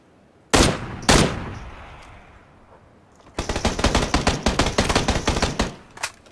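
Gunfire in the battle royale shooter PUBG, with two sharp single shots early on, a short pause, then a loud, sustained burst of rapid automatic fire crackling steadily for about three seconds before tapering off.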